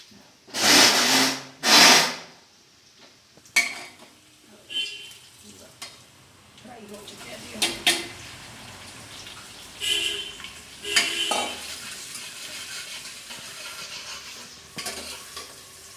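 Masala with onion and tomato sizzles in a pan as a spoon scrapes and stirs it, with loud clattering strokes at the start, then quieter intermittent stirring over a soft fry.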